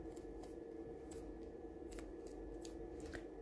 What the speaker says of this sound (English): snip off your excess